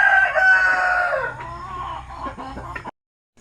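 A rooster crows loudly up close, a long drawn-out call, followed by softer clucking from Basilan chickens before it cuts off.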